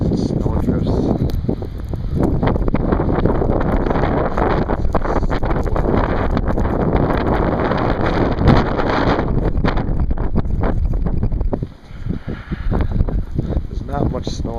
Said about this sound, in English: The wind has been 40 to 50 miles an hour all night. It's been shaking the house up.